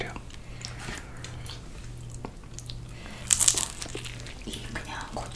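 Crunchy, spicy BHC Mapster fried chicken is chewed close to the mic, with steady crisp crunching and a louder burst of crackling bites midway, over a low background hum.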